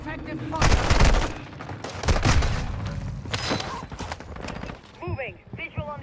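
Gunfire in the shooter game Call of Duty Resurgence: loud bursts of rapid shots and heavy impacts, close and dense, followed by a few sharp clicks and tones, with game radio voices partly over the fire.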